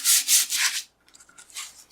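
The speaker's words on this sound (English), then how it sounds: "I'm just going to lightly run the sanding block over." A sanding block is rubbed over white core cardstock in three quick, scratchy strokes, a brief pause, then a few lighter passes, close up and fairly soft.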